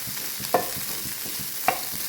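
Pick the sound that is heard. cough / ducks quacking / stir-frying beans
stir-frying beans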